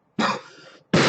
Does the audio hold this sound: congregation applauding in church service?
no